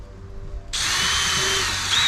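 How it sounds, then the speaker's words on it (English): A power drill bores into wood for a cupboard build in a van conversion, starting abruptly after a quiet moment and whining loudly and steadily close by for over a second. "just going to drill a couple of holes in either end"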